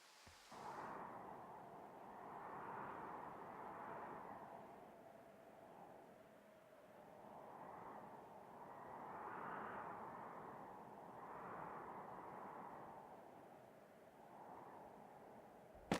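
A propeller airplane in the video game Firewatch drones steadily overhead, its engine hum swelling and fading in slow waves across a quiet outdoor scene with no talking.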